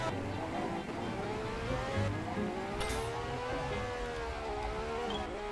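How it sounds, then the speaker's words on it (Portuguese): Engine drone of a car driving in the Roblox game Mad City, a steady, moderately loud revving hum with slowly shifting pitch that continues throughout. "Olha o carro do Arthur, galera. Esse carro top aí, ó"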